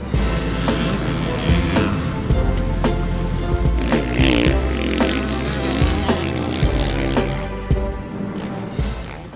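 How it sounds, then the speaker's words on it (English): A 2017 Kawasaki KX450F motocross bike ridden at Milestone, its engine droning loud and steady throughout with revving swells and shifts, close to the microphone. "I'm out here at Milestone riding the 2017 Kawasaki 450 for Vital MX."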